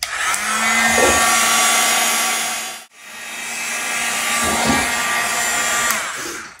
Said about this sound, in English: I'm going to use my heat gun again. This is on a low setting